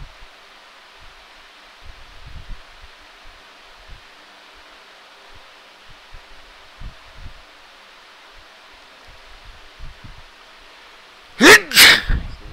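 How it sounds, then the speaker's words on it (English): A man sneezes loudly and close by near the end, a sharp double burst after a long stretch of quiet room hiss and faint low thumps. "Whoa! That was a good sneeze."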